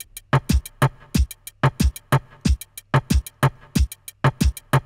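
Reggaeton drum loop programmed in Studio One: punchy kick, snare and percussion hits in a steady syncopated dembow pattern, loud and dry, repeating alone without any voice.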